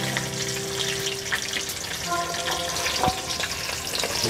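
Hilsa fish heads fry in hot mustard oil in a pan, giving a steady, close crackling sizzle with occasional sharper pops and spatters.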